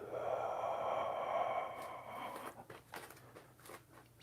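Slow, audible breathing during a desk-worker stretching exercise, a long soft airy exhale followed by a few short sniffs and rustles, close and quiet.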